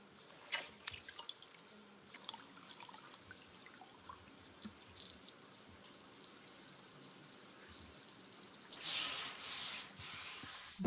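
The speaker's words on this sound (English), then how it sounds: "it is washed repeatedly like washing rice, until the water is clear" Fine polishing sand being washed repeatedly in water by hand, like rinsing rice, in a traditional woodworking workshop; soft rubbing, swishing and trickling water sounds continue quietly throughout, with a louder splash of running water near the end.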